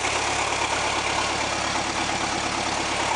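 A Glastron Carlson CVX16SS sportboat engine idles steadily after a carburetor priming, with a constant dense rumble held at even loudness throughout, close and continuous with no talk over it.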